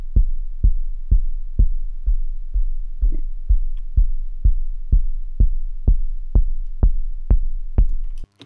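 A techno kick drum sample plays in a steady four-on-the-floor pulse, about fifteen deep punchy thumps. The filter cutoff shifts so the later hits grow brighter and more clicky, and there is no talk.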